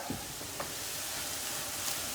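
Steady, faint sizzling hiss of bibimbap ingredients frying in roasted sesame oil, continuous throughout with a few small pops, no talking.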